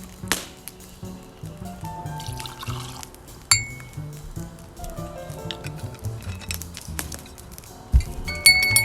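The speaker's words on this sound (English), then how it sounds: "we're going to add 2 ounces of rye whiskey" Two ounces of rye whiskey go into a glass, with a short pour, clinks of glass and small taps and knocks of bar tools scattered through, close and fairly quiet, with no voice.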